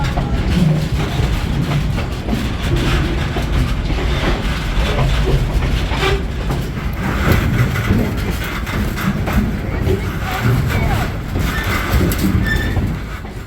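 Train rolling slowly at about 10 to 11 mph along the Charlotte Valley Railroad on a North Pole Express run, with steady rumble and clickety-clack of wheels on track, close and continuous throughout.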